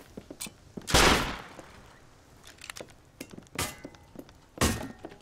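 Gunfire in the survival video game Rust: several sharp, loud shot bursts, one long heavy blast near the start and two more later, with scattered quieter clicks and thumps between them, no talk.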